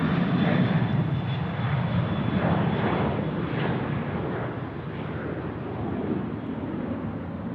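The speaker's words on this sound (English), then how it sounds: "Welcome to Sydney to our Vietnam Airlines friends. It's the A350-900 Vietnam 773." A Vietnam Airlines Airbus A350-900 comes in to land at Sydney Airport, its jet roar loud and steady throughout, easing slightly toward the end with no voices.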